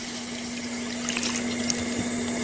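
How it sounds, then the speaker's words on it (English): Canned green beans with their broth poured from the can onto a cast iron serving platter, a close, brief liquid splashing and trickling over a low steady hum, no talk. "it's going to have green beans straight out the can with a broth"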